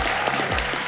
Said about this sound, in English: So I'd just like to give him a big round of applause.